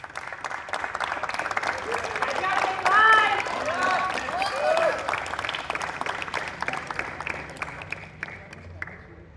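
Audience at a college poetry recital event at NIT Rourkela breaks into sustained applause, dense hand-clapping that swells and then thins out, with a few voices and whoops mixed in.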